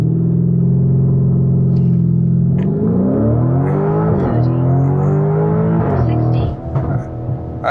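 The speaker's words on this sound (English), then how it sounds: "Let's see what the Urus SE does 0 to 60." Lamborghini Urus SE, an 800 hp SUV, launching from a stop with launch control: a steady loud rev hold, then the engine climbs hard through several upshifts, each rise breaking off and restarting, close and dominant to the end.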